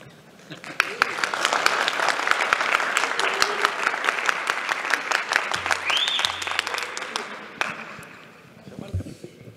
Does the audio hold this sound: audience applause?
yes